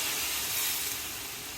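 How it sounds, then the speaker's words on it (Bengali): Water poured into a hot pan of sautéed amaranth stems sends up a loud, steady steaming hiss lasting the whole moment, with no voices. "এখন আমি রান্না করার জন্য পানি দিয়ে দিব।"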